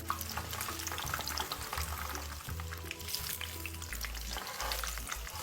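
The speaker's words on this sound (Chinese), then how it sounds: "再将它翻面继续油炸，一直油炸至豆腐干两面都金黄色" Homemade otak-otak tofu puffs frying in hot oil in a wok, a dense, close, continuous sizzle and crackle with occasional stirring scrapes and low bubbling.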